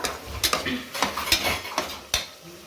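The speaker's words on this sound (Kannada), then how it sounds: "ಬೆಳ್ಳುಳ್ಳಿ ಪೇಸ್ಟ್ ಹಾಕಿದ್ಮೇಲೆ ಚೆನ್ನಾಗಿ ಹುರಿಬೇಕು" Garlic paste frying for Ambur chicken biryani, a spoon stirring and knocking against the pot in several sharp metallic clanks over a soft sizzle, close by.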